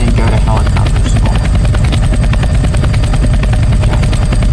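A helicopter flies in the Roblox video game, giving a loud, steady rapid rotor chop with a dense buzzing drone that stays close and constant throughout.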